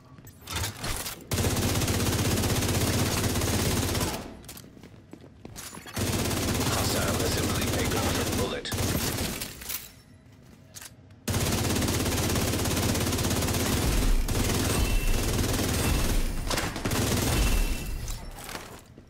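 Automatic gunfire from a striker build firing golden bullets in a video game rattles out in three long, dense bursts, each broken by a short pause, loud and close throughout.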